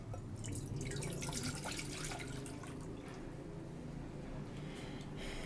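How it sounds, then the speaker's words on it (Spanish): Water poured from a bottle into an empty cooking pot, giving a continuous splashing trickle with bright dripping spatters, clearest in the first few seconds and then steadier and softer. "Voy a vaciar aquí en la olla."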